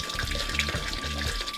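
A toilet tank refills after a flush, with water running steadily in a continuous rushing flow at close range, with a faint gurgling texture throughout.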